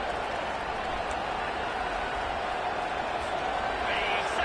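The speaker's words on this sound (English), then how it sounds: "This crowd bringing the energy and noise early." Steady, loud roar of a stadium crowd at an Alabama football game, a continuous wash of cheering and noise with no breaks, talk faintly mixed in.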